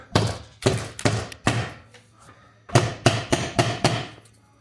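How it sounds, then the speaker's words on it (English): Pieces on a homemade Rubens' tube are hammered down in sharp, close metallic strikes, four quick blows, a short pause, then a second run of about six evenly spaced hits. "we're just gonna hammer them all down, screw them in a little bit"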